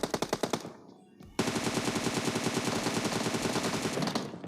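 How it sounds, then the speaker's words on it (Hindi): Rapid automatic gunfire in the PUBG Mobile video game, a short burst of loud shots, a brief pause, then a long sustained stream of close, rhythmic machine-gun fire. "इतने मुझे पीछे से फायर आते हैं"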